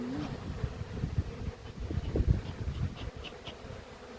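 Honeybees crowd into a hive entrance during colony care, a soft close buzzing hum with fluttering bursts of wingbeats that swell and fade over a few seconds.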